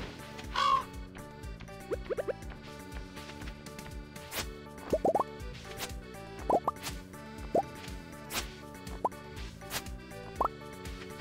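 Crows in the Stardew Valley video game give several short, scattered caws over bouncy game music and plopping sound effects, with no one talking.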